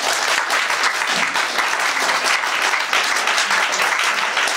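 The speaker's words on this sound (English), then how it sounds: "let's welcome Andy with a big round of applause" A lecture audience gives a big, sustained round of applause to welcome a speaker, dense and even throughout with no voices over it.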